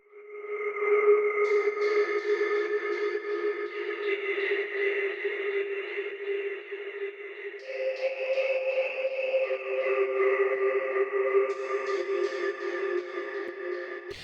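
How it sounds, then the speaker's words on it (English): Ghostly synth pad layer in a melodic house track built with Ableton stock plugins, sustained and harmonizing with the bass; steady and loud with no gaps, gaining brighter upper tones partway through. "Let's go up to this ghostly pad layer here."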